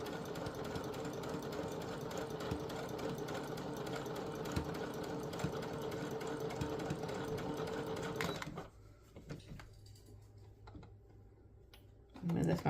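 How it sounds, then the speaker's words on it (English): A sewing machine stitches a seam in a steady, rapid mechanical whir that runs for about eight seconds, then stops, leaving quiet handling noises and a brief final burst. "And we're going to sew it all the way down."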